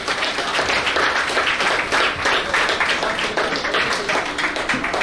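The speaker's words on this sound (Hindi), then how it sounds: "तालियां।" Steady applause from an audience at a student felicitation ceremony, dense clapping that stays loud and even for the whole stretch, with faint voices underneath.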